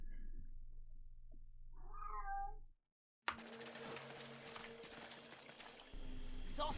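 A female cat in heat meows and yowls in drawn-out caterwauls, close and fairly loud, over a low hum of game audio, which then breaks off into a busier in-game soundscape.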